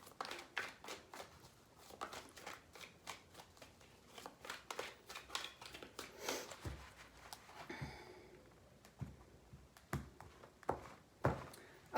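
Tarot cards being shuffled by hand, a quiet close series of crisp riffling bursts in quick rhythm with short pauses between.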